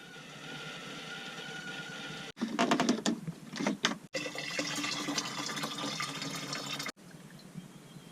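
Heated water poured from a small insecticide-style jug sprayer used as a shower on a sailboat, a steady splashing stream broken by short gaps and brighter bursts of spray, close and fairly loud with no talking.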